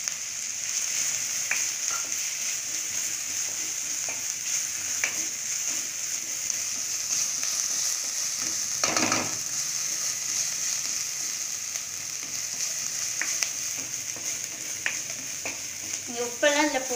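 Grated coconut and plantain frying in a pan for vazhakkai mezhukkupuratti, a steady close sizzle with intermittent scraping stir strokes and a louder burst midway, no talking.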